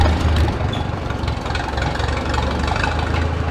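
A tractor engine idles close by, a loud, steady low throb with a slight knocking pulse that holds constant throughout, with no voices.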